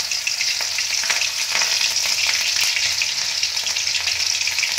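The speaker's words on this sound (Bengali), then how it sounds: "আদা বাটাটা দিয়ে দিলাম। গ্যাসটাকে বন্ধ করে দিচ্ছি, একদম ছিটকাচ্ছে।" Ginger paste sizzles and splatters in hot oil in a pan, a steady, close, bright crackling fry with no talk over it.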